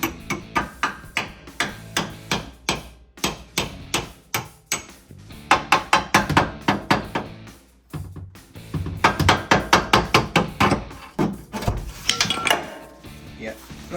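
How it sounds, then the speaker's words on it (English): Sharp metallic hammer whacks on a shock mount bolt during a rear lowering kit install on a 2015-2020 Ford F150, a long run of rapid, close, loud strikes in uneven bursts with brief pauses. "I'm going to get my hammer. I'm going to give it a little whack."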